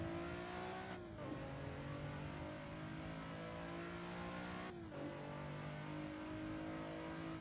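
A race car engine in the driving game Assetto Corsa revs high and steady, then cuts sharply twice for quick gear shifts before climbing again, loud and continuous with no voices.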